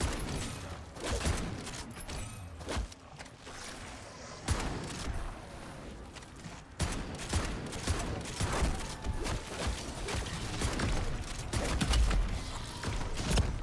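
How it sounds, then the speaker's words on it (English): Gunfire from a pump shotgun in Call of Duty MW3 Zombies, with repeated loud blasts and pump-action clacks mixed with dense game effects and explosions across the stretch. "The only downside to this is when you're trying to plate, you can't keep shooting because you have to pump the gun."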